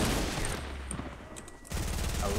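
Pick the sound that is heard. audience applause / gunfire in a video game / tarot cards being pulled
gunfire in a video game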